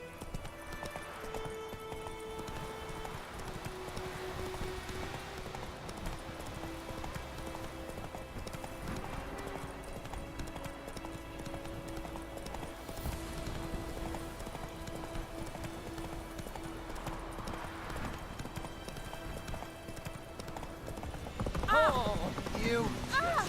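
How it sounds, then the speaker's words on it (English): Horse hooves clop steadily in The Witcher 3, a continuous rhythmic trot running under game music and ambience, with a neigh near the end and voices talking. "Whoa there, Roach."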